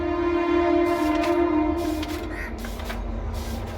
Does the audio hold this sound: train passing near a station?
yes